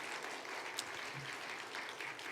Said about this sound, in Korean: 나오세요. 박수. 네 박수.